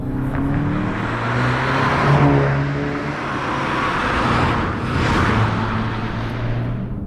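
A stick-shift Volkswagen GTI pulls away with a close, steady engine hum and road noise, its pitch rising and falling gently through gear changes.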